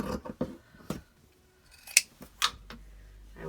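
Scissors snip through an old knitted sweater: a few crisp cutting strokes spaced unevenly, close and fairly quiet, in an otherwise still room.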